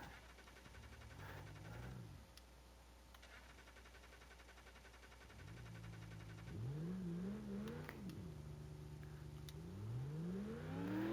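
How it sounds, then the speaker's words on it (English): A car engine in BeamNG.Drive sputters and restarts, faint and rough, with several short rising revs that fall away as it struggles to keep running. "Okay, so I was able to get the engine fired back up."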